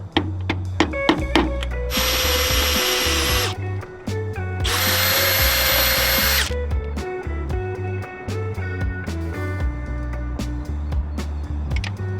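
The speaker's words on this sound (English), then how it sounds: "It was really difficult to get the screws in." A power drill drives screws into a mast gooseneck fitting on an ocean-going catamaran, two loud whirring bursts of a couple of seconds each amid scattered clicks and knocks.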